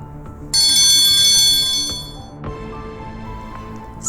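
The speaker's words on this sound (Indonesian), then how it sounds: "Saat itu lonceng sekolah benar-benar berbunyi." A school bell rings loudly and suddenly with a bright metallic tone, sustains for about a second and a half, then gives way to a fainter second strike that fades out.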